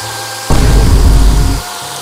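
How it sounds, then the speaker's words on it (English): A water sprayer blasts mud off in a kids' car-wash video game, a loud rushing burst that starts abruptly, holds for about a second, then cuts off over soft background music. "grab the water sprayer to rinse off the mud"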